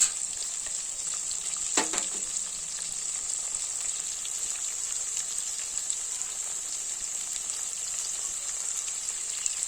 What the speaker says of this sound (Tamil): வெங்காயம் வந்து ஒரு அரைப்பை தான் வதங்கிடுச்சு